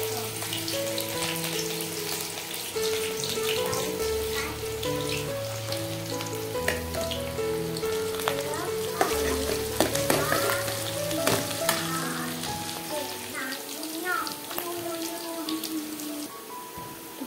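Onion frying in hot oil on a heater, a continuous dense rain-like sizzle with crisp pops throughout, close and steady over a faint tonal hum and background music, no talk.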